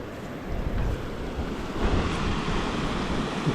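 River water rushing at an off-road vehicle crossing in Colca Canyon, Peru, a close, steady broadband wash mixed with wind rumble and no voices.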